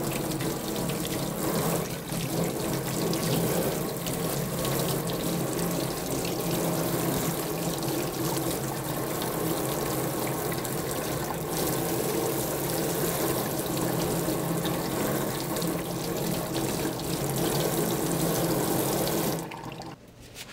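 Tap water runs steadily into a sink while soil is washed off fresh bellflower roots, a continuous close splashing stream that cuts off abruptly at the end; no voices.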